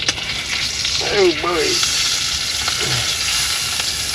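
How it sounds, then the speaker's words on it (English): Meat sears in a hot pan with a loud, close, continuous sizzle and crackle while someone speaks a few excited words over it. "Got her dancing in the pan. We're gonna sear all the sides of it."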